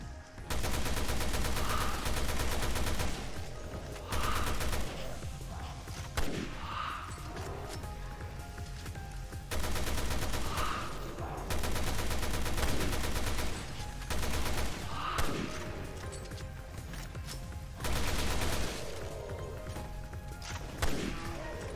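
Gunfire in Resident Evil Revelations 2 Raid Mode, long sustained bursts of rapid shots broken by short pauses, loud and close, with brief thuds between bursts.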